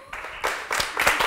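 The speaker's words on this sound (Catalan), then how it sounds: "Doncs un fort aplaudiment per aquest Picarrànquing." Applause at a Catalan school quiz show, a short burst of many hands clapping together, fairly loud and close, with no talk over it.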